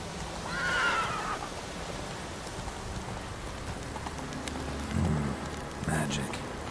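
Roach the horse whinnies in The Witcher 3, a short neigh near the start against a steady bed of rain, with a couple of fainter snorts or hoof sounds later on.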